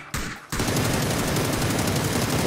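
PUBG video game gunfire: after a brief gap, a sustained rapid automatic burst rattles on continuously, loud and dense, with heavy low-end thumps.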